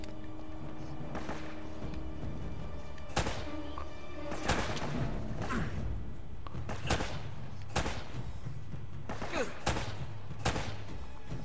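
Pistol gunfire in Uncharted, a sequence of separate sharp shots spaced a second or two apart over a steady ambient game background, moderately loud, with faint talk underneath.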